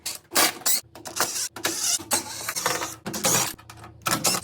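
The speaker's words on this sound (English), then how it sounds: "we're gonna take the screws out from all of these corners too" Screws are backed out of the corners of a Frigidaire microwave oven combo's panel, heard as a run of close, choppy mechanical whirring bursts separated by short pauses.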